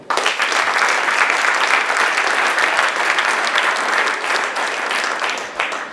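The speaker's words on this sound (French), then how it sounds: "Vous pouvez les applaudir." An audience applauds the speakers at the close of a conference session, a dense, sustained round of clapping that stays loud and fairly even before tapering slightly at the end.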